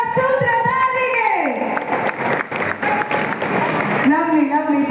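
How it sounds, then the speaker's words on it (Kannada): Loud applause from the audience at a Kannada film launch for Sutradhari featuring Chandan Shetty, with music playing throughout, a sweeping tone, and a voice speaking over the clapping. "ಮತ್ತೊಮ್ಮೆ ಜೋರಾದ ಚಪ್ಪಾಳೆ ಬರಲಿ."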